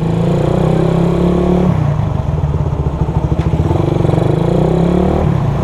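Suzuki Satria FU motorcycle from 2005 revving its engine nearby, loud and steady with a throttle blip and rhythmic pulsing in the middle, then settling back to a dense idle.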